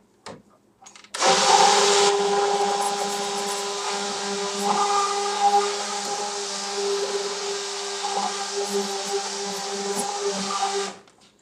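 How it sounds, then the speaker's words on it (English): A stick blender mixing cold process soap batter whirs steadily for about ten seconds, a continuous motorized hum with slight changes in pitch as it churns, close and fairly loud. "I'm going to turn the stick blender on here for a minute."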